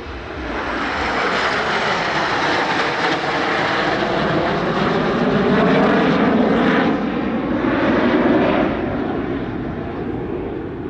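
Aerobatic display team jets roar past at an airshow in Langkawi, a loud sustained engine rush that swells and fades gradually over several seconds.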